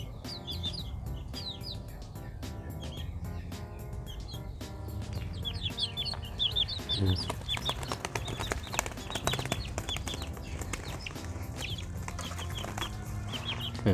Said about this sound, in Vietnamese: Bên trong mấy con gà.